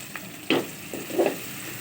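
Okra frying in a pan with dried shrimp, giving a few short sizzling bursts and a scrape of stirring at close range, with no talk.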